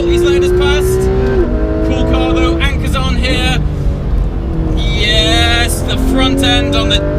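A Porsche RS engine revs hard on a race track, high-pitched and loud inside the cabin, climbing through the gears with brief shift dips while the driver talks over it.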